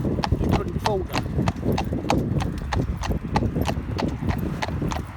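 Hooves of a ridden cob mare clip-clop in a steady rhythm along a fairly major road, close and clear, with a brief whinny and people talking over the hoofbeats.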